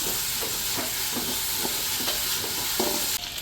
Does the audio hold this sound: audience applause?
no